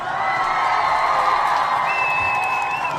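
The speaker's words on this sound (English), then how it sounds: "We'll give all the Ujamaa babies a round of applause." A crowd cheers loudly and continuously for the Ujamaa babies, a dense wash of whoops and shouting voices with some clapping underneath, plus a sustained high whistle-like cry near the end.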